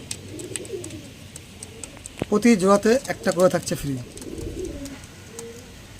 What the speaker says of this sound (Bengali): এই পায়রাটা